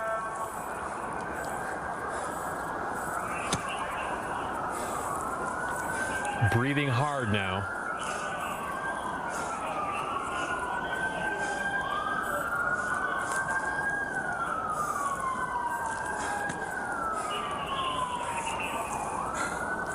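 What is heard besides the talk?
police sirens approaching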